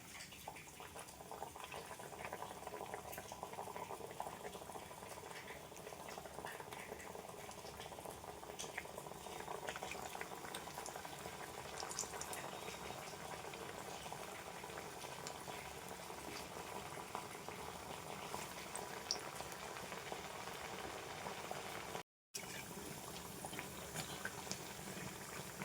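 Jackfruit seeds bubble steadily in a pot of water over a medium flame. The boil is a constant, dense simmer that stays close and fairly quiet for the whole stretch, with a brief dropout near the end and no talking.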